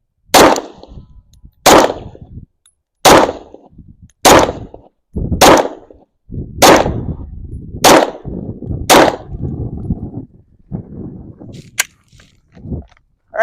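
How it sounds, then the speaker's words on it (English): Handgun fired at a paper target at a shooting range: eight sharp, loud shots spaced roughly a second and a half apart, each with a short ringing tail, then a quieter stretch with one more faint crack. "Just gonna do my last remaining 8 shots right at the face."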